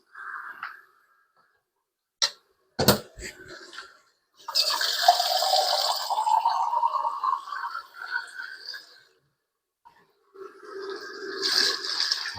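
Water pouring into a pot of papaitan soup, a steady splashing gush that starts partway through and runs for several seconds, after a few sharp clanks, then resumes more faintly near the end, with no talk.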